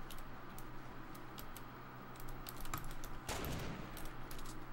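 Quiet bursts of gunfire from a Fortnite Battle Royale match crackle in a quick cluster, with a louder shot near the end, over a faint background bed of game ambience and tapping.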